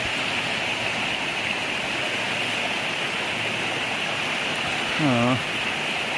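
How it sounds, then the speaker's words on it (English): A waterfall and rushing rapids beside the Foothills Trail give a steady, even wash of falling water that continues without pause, with a brief low voice near the end. "I think I'm getting close to a waterfall."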